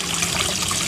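Water gushes from a WP 104 pump rated at 2200 litres per hour, making a steady, dense rushing and splashing that stays even throughout, close by and with no voices.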